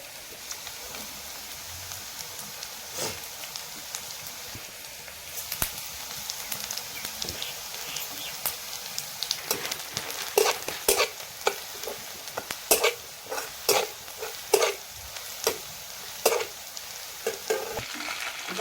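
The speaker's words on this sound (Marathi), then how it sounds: "त्याच्यामध्ये मोहरून जिरं टाकून देऊ आपण" Mustard seeds and cumin sizzle in hot oil in a pan, giving a soft steady frying hiss that becomes busier with sharp popping crackles toward the end, near and fairly quiet, with no talking.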